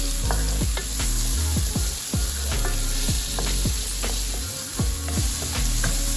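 Amaranth leaves with bean seeds stirred in a frying pan: a steady sizzle under repeated scraping and clanking strokes of a utensil, roughly one or two per second, close and clear.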